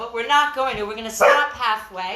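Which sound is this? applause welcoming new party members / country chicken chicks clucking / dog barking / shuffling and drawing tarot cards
dog barking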